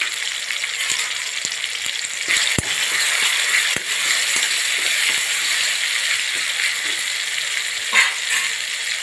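Tomatoes fry in oil with salt, turmeric and asafoetida, giving a steady close sizzle that runs throughout, broken by a few sharp clicks of a spoon against the pan.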